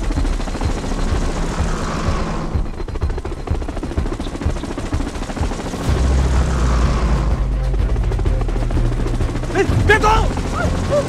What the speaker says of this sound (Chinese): 真的有直升飞机。